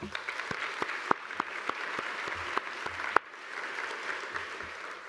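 A breakfast event audience applauds the program and administrative staff, a steady patter of many hands at moderate volume with a few sharper claps, easing briefly near the end before continuing.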